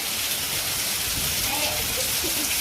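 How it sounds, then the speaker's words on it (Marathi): Rain falling in a village makes a dense, even hiss that stays loud and unbroken from start to end, with faint voices beneath. "आमच्या गावाला पाऊस आलाय"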